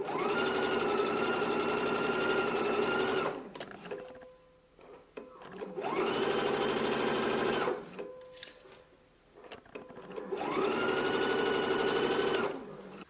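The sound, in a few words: sewing machine stitching fabric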